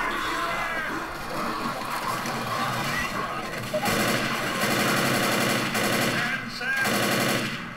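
Rapid automatic gunfire in Left 4 Dead, loud continuous bursts that grow denser and harsher midway, with speech faintly mixed in.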